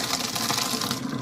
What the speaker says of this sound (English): We're just going to go ahead and do a quick strain.